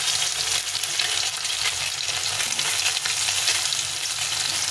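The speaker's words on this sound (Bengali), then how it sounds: "সবগুলো ডিম এভাবে ভেজে নেবো।" Duck eggs frying in hot oil for an egg curry with taro and potato, giving a loud, steady close-up sizzle and crackle that runs unbroken throughout with no talking.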